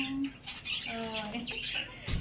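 Pet parrots in a home chirp and whistle in short bright calls, with some harsher squawks, fairly close and moderately loud, ending with a brief burst of noise.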